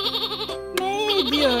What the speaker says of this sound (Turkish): kuzu varmış, kuzuymuş bu.